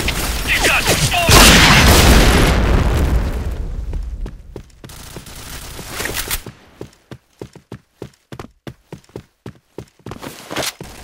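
Grenade blasts in the shooter game Point Blank open with a loud, broad boom that rumbles and fades, followed by a run of sharp, evenly spaced clicks or footsteps close up.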